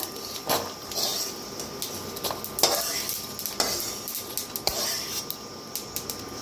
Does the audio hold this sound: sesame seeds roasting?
yes